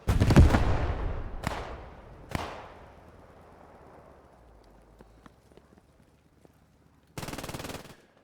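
Gunfire rings out in the World War II shooter Squad 44, with a few loud sharp reports echoing away, then quiet scattered clicks, then a short rattling machine-gun burst near the end.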